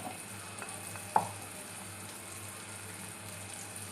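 Tomatoes fry gently in a pan, a soft steady sizzle with one brief clink of a utensil partway through and no one speaking.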